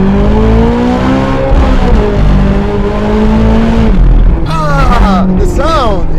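Naturally aspirated V8 of a Ferrari California driven hard through corners, a steady engine drone with rising revs, mostly under someone talking close to the microphone.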